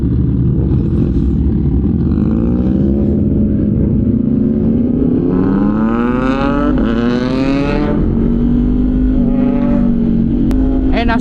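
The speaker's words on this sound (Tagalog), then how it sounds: "nasa harapan natin Triumph Trident. Napakaingay din, no?" Triumph Trident motorcycle riding ahead on a big-bike group ride, its loud engine droning steadily with rising revs and pitch sweeps throughout, mixed with wind and other bike noise and no talking.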